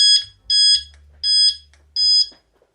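Four bright electronic beeps from an NGT VS fishing bite alarm, set to a lowered volume, repeat at an even pace and stay clear and close before cutting to quiet.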